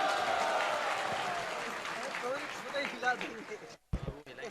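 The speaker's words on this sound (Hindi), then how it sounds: "जोरदार तालियां एवरीवन." A crowd at an ISKCON devotional event breaks into a loud burst of clapping that slowly thins out, with voices mixed in and a brief drop to near-silence toward the end.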